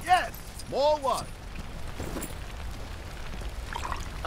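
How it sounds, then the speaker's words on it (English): Water pouring in LEGO The Incredibles, a bright cartoonish gush with swooping, bubbling tones at the start that fades into a softer wash. "Yes, more water."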